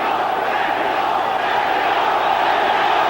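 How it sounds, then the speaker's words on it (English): A boxing arena crowd chants for Julio Cesar Chavez during his fight with Kostya Tszyu, a dense, loud, sustained roar of voices filling the whole stretch. "Crowd chanting for Chavez."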